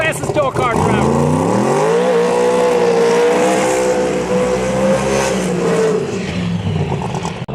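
A drag racing door car accelerates hard at Bradenton Motorsports Park during a testing session. The engine note climbs sharply, then holds a loud, steady howl for several seconds before easing off, close and dominant throughout.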